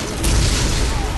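A rocket explosion in the video game Borderlands: one loud, dense boom that fills the short moment and rumbles heavily in the lows before fading slightly, with no voices over it.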